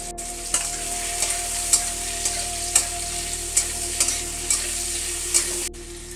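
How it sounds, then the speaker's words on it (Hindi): Apple pieces frying in ghee for an apple and grape sweet, a steady sizzle with regular spatula scrapes and stirs roughly every half second, close and alone with no talking. "यहाँ पे मैंने जो एप्पल लिया है, एप्पल को हम फ्राई करेंगे हल्का सा।"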